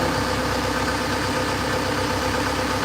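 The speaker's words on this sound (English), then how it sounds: "I'm not used to hearing this turbo hum." A car engine hums steadily with a constant droning tone and a faint high turbo whine layered over the low rumble, loud and close.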